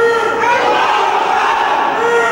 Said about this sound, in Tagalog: Umalingaw-ngaw ang sigawan sa loob ng Sharif Kabunsuan Cultural Center nang ideklara ng COMELEC Cotabato City na yes vote ang nagwagi